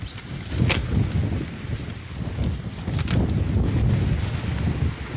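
Strong wind buffets the microphone in a steady roar, with deep rumbling gusts and no voices.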